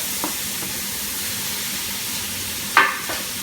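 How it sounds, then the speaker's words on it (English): Steak for fajitas sears in a hot pan with a steady, close hiss and sizzle throughout, broken near the end by a brief clatter. "Now I'm ready to sear my steak."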